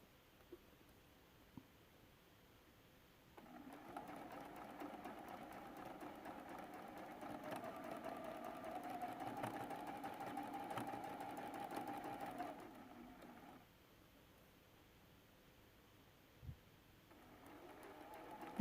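A sewing machine stitches a seam across a collage-style T-shirt quilt top, a quiet, steady whirring run of about nine seconds that starts and stops amid faint room noise.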